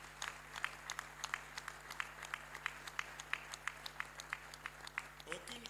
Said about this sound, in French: Je voudrais demander que vous l'applaudissiez.